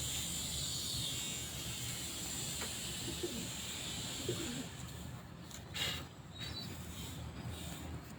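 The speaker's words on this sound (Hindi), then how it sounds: "देखें जी इमामदीन कबूतर माशाल्लाह बहुत ही मज़ेदार कबूतर है" Imamdin pigeon cooing softly at close range, low murmuring calls repeating over steady background noise.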